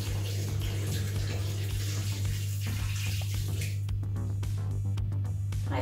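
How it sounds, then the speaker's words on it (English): Hot water from a kettle runs and splashes steadily under a low background hum, the flow sounding like pouring into a vessel for dyeing denim, with no talking. "And now I add a bit more hot water"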